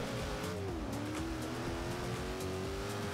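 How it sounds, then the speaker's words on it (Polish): McLaren P1 supercar engine in the racing game Forza Horizon 2, a steady loud drone that climbs slightly in pitch under acceleration, with tire squeal and game effects layered over it and no speech. "McLaren P1. Gaz, gaz, gaz, Lucek."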